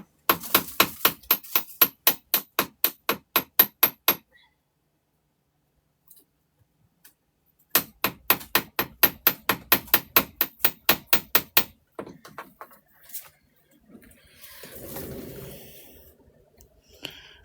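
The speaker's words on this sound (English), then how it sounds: "I hammer it here, so this part will be strong." A small hammer taps a wire-wrapped bead charm loop, striking in two quick, even runs of sharp metallic taps separated by a pause, followed by a few scattered knocks and light handling sounds.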